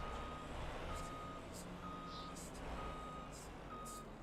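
Farm truck in a farming video game backing up, its reversing alarm beeping in a slow regular pulse over a steady low engine rumble, fairly quiet and with no talk.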